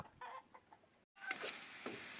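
Chickens clucking close by in short bursts, broken by a brief moment of silence before more clucks resume.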